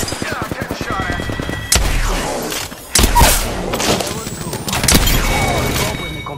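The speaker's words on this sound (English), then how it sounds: "Yeah, I'm getting shot at." Gunfire in the battle royale game Apex Legends, with rapid bursts at the start and several heavy booming impacts later, mixed under voices talking.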